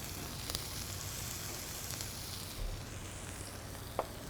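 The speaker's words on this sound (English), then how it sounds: "So we got that nice sizzle" Julienned shallots frying in hot extra virgin olive oil in a pan, giving a steady, even sizzle with a few sharp pops and crackles, heard close and alone without talk.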